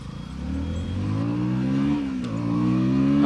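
A 2025 KTM Duke 160 motorcycle engine pulling up through the revs in city riding, a steady rising drone with a brief dip mid-way as it shifts, then climbing again, loud and close.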